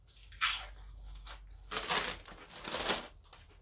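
Potato chips and a sandwich crunch in three distinct bite-and-chew bursts, close and crisp against a quiet background.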